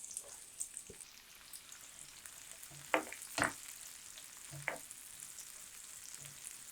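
Chopped onions fry in hot oil with mustard seeds and cumin as a tempering, giving a soft, steady sizzle broken by a few sharper pops and stirring scrapes.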